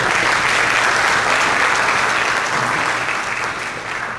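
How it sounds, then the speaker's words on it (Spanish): Applause from an audience at a panel forum on family aggressors, a thick, continuous burst of many hands clapping at close range that eases off slightly near the end, with no talking. "También un aplauso para el equipo que el día de hoy nos acompaña de los CAIS."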